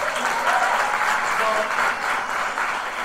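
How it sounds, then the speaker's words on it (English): A graduation audience at a Black graduation celebration claps in dense, sustained applause that fills the whole stretch, loud and steady without a break. "Now give it up for one more time, y'all."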